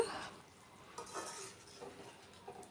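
Egg curry with whole eggs being stirred in a pan, soft scraping and clinking of a spoon against metal with a light sizzle underneath, a few quiet strokes with no voices.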